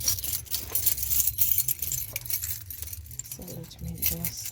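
Keys jangle in quick metallic bursts while a small gate is being locked at an African village school, clinking close by and on and off throughout, with a low hum underneath.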